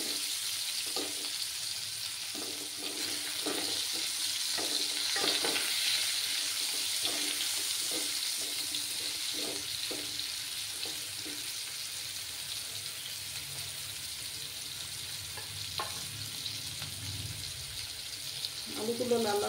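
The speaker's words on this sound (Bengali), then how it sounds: "একদম লাল লাল করে আলুগুলো ভাজতে হবে" Potatoes frying until reddish brown, giving a steady sizzle and hiss throughout, with a voice talking intermittently over the cooking.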